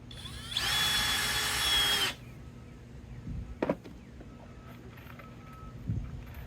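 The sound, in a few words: driving screws into pressure-treated fence pickets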